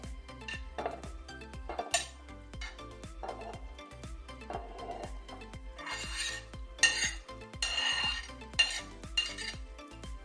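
A spoon scrapes and clinks steadily against a metal cooking pot while chicken korma with masala is stirred, a run of repeated close strokes with brief rubbing in between and no talk.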